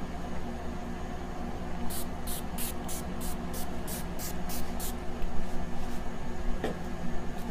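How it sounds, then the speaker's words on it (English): About ten quick, evenly spaced hissing spritzes of Urban Decay makeup setting spray, close and fairly loud over a steady background hiss, then quiet apart from one faint tap. "I'm gonna be using my Urban Decay the Slick Oil Control Makeup Setting Spray."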